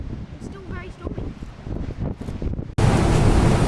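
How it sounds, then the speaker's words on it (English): Stormy wind and heavy waves at sea around a cargo ship, a loud gusting roar and surging water, with a voice speaking early on before a sudden burst of dense wind noise takes over. "It's still very stormy."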